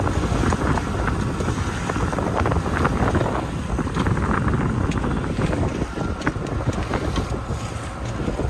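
Wind blowing at about 15 knots across a small sailboat with an outboard rudder conversion, heard as a steady, close, roaring gust noise on the microphone that never lets up, with no talking.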